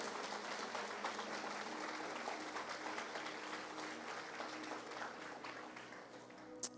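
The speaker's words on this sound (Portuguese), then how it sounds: "você pode dar um aplauso bem forte ao Senhor?" A church congregation gives a strong round of applause to the Lord after a prayer, with sustained, even clapping from many people throughout, somewhat distant and soft.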